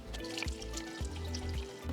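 About 1.5 cups of water pours and trickles steadily into a blender with mint leaves, with a continuous liquid splashing sound and faint clinks; no one speaks.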